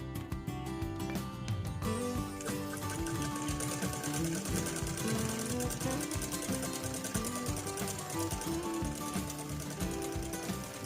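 A sewing machine stitching a saree runs in a fast, steady mechanical chatter close by, holding a continuous rhythm throughout with no pauses and no talk.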